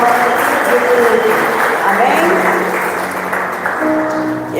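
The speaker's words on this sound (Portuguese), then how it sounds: "Vamos dar uma salva de palmas, de gratidão, de libertação, de tudo." A church congregation applauds as a gesture of thanks during a Portuguese-language worship service: dense, steady clapping fills the room, with voices and a faint musical tone mixed underneath.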